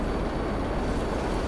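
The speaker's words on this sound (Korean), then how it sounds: "소리가 좀 이상한데요 제트기가" A jet aircraft engine in GTA 5 gives off a steady dense roar with a broad low rumble, constant and loud throughout, with no talk over it.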